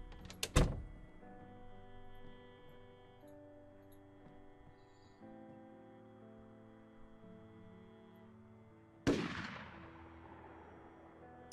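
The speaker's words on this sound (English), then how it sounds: "Hopefully that gunshot has gone further away" Two sharp gunshot bangs in the zombie survival game Project Zomboid, one near the start and one later, each with a decaying tail over a quiet bed of steady game music.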